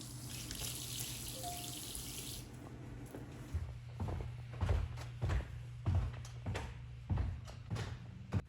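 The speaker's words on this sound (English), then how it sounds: "we installed touchless, water-efficient devices in all of our bathrooms. So when you're washing your hands," A touchless water-efficient bathroom faucet runs with a soft steady stream, then gives way to quiet splashing and a series of faint thumps and footsteps as hands are washed.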